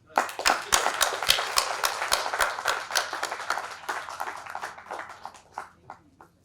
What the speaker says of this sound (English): And the applause can continue.